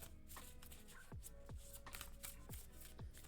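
Tarot cards being shuffled and drawn, a run of soft papery riffles and flicks repeating in quick bursts, close and quiet, with no talking.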